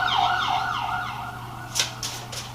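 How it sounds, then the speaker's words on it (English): An emergency vehicle siren wails on a nightlife street strip beside a bar, its rising and falling tone heard at moderate distance, followed by a few short bursts of traffic noise. "you'll hear sirens and things like that"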